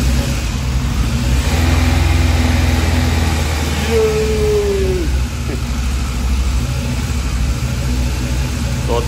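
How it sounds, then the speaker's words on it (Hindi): A motorcycle engine idles steadily after an electric self-start with the choke on, a loud, even mechanical hum with a brief rising whine midway. "और इसको अभी सेल्फ मारते हैं चौक ऑन करने के बाद, और फिर शोर हो जाएगा"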